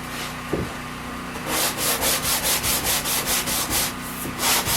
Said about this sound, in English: All I'm doing is giving my tongue that I made and put in a quick sand just to knock burrs off.